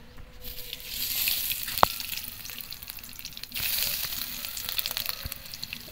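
Black cumin seeds hitting hot oil in a wok crackle and sizzle close up, with scattered sharp pops over a steady hiss that swells twice, around the first and fourth seconds.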